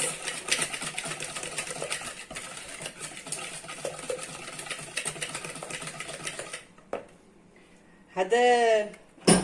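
Basbousa batter is beaten hard in a bowl: a rapid, steady rattling whir runs close and continuous for about six seconds, then stops, followed by a few brief scattered sounds.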